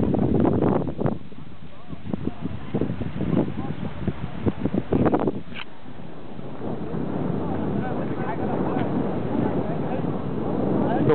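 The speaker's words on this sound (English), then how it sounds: "Here comes the cold wind." Cold wind blows across an open site in Saluum, Egypt, during a total solar eclipse, a steady rushing buffet on the microphone that follows several seconds of excited talking and exclamations.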